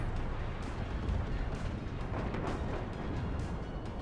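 Artillery firing in WARNO, a steady low rumbling barrage of distant booms blending into a continuous roar, fairly faint with no clear separate shots.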